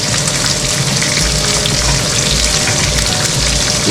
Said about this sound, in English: fry all these together until the fresh smell is gone